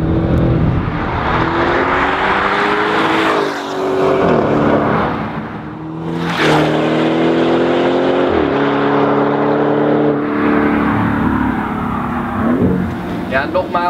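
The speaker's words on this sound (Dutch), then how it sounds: "deze auto klinkt nog lekkerder, want die is voorzien van een Akrapovic-uitlaat" An Audi S6 Avant V8 with an Akrapovic sport exhaust revs and roars loudly up close, climbing and dropping in pitch, with a sharp crackle midway.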